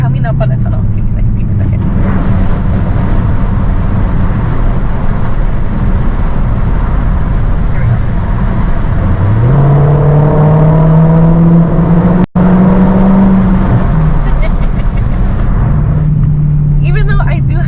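A Hellcat car drives through a tunnel, giving a loud, steady engine roar and road rumble. Partway through, the engine note rises and holds as it accelerates, with an enclosed, echoing wash throughout.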